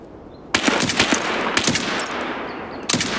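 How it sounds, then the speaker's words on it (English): Suppressed gunfire in the shooter game Escape from Tarkov, a sudden sustained burst of rapid muffled shots that trails off, followed by another short burst near the end. "What was that suppressed gun sound?"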